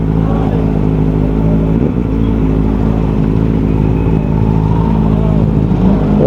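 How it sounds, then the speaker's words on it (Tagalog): A crowd of motorcycles waits at a road checkpoint, engines idling and revving together in a loud, constant rumble close by. "ang daming mga motor dito naghihintay kasi may checkpoint"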